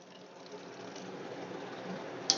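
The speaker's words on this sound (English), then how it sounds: "what I'm doing now is I'm pumping out whatever water we have in here" A pump pushing leftover water out of a beer counterflow chiller while homebrewing a porter, a steady low rushing flow under a faint whine, with a brief sharp click near the end.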